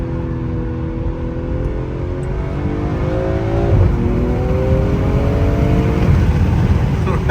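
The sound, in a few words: BMW M340i B58 engine revving with turbo pops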